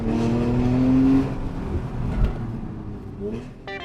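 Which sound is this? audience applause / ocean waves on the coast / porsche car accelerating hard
porsche car accelerating hard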